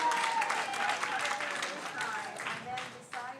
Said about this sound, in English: Clap it up for Darby